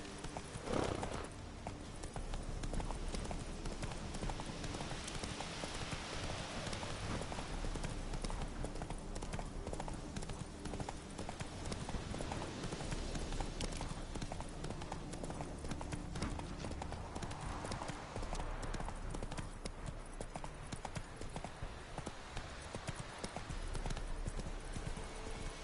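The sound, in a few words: horse galloping, Roach in video game The Witcher 3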